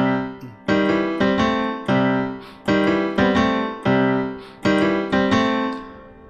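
Piano playing a variation of a song, holding a C while striking an A, in repeated chords that sound loud and close and decay steadily between evenly spaced strikes.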